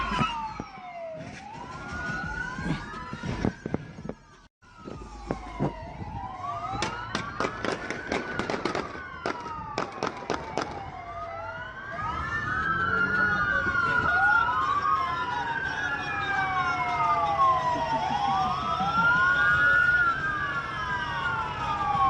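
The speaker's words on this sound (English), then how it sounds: "This includes video of Constable Alton's car causing the Mustang to spin out as the other cars crash into it" Police sirens from a car crash, several wailing sweeps overlapping with sharp impact and crunching bursts early on, then multiple sirens cycling loudly together as emergency vehicles gather.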